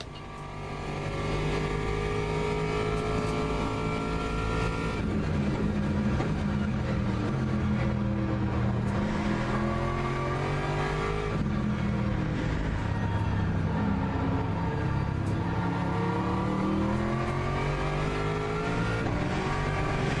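BMW race car engine on throttle in Le Mans Ultimate, loud and close throughout, with harmonics rising and falling through gear changes and corner exits and a faint tire squeal.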